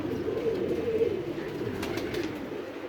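Pigeon cooing in a home loft where a flock of pigeons is kept, a low steady murmuring coo held throughout at moderate distance, with faint chirps near the end.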